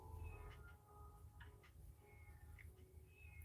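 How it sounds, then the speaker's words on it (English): Faint, high electronic meows from a cat-sound wall clock striking noon chime a few times over a low steady hum, thin and somewhat distant. "That meowing you hear is the clock I got for Christmas."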